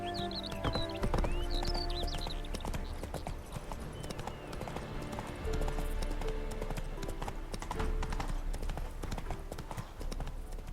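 Horse hooves clop steadily in The Witcher video game, a rhythmic trot under game music and a neigh, with a voice speaking briefly.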